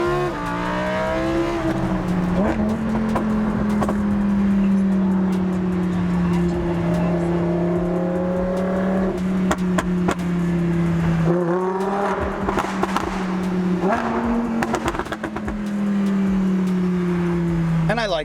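Tuned Lotus Evija hypercar with an aftermarket exhaust, loud and close, revving up in repeated rising pulls with gear changes and sharp bursts, its engine note climbing and falling throughout.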